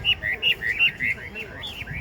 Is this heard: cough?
no